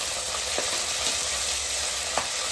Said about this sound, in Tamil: நல்லா பொன்னிறமாகிற அளவுக்கு இப்படி வதக்கி எடுத்துக்கோங்க